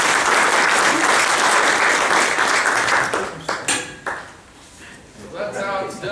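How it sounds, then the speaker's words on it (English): Lecture audience at a lean manufacturing summit breaking into applause, a loud dense burst of clapping that thins out after about three seconds into scattered claps and clinks, with voices starting up at the end. "Thunderous applause."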